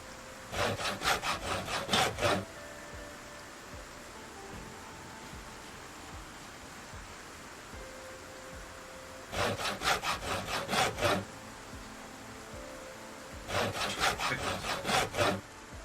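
Wood being sawn into planks in Project Zomboid: three bursts of rapid back-and-forth saw strokes, about six strokes each, fairly close and clear, separated by quiet pauses.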